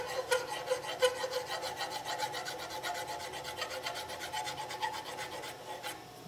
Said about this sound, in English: This file is plenty coarse, probably a little coarser than I would prefer, because it's gonna take just a little more work to get those file marks out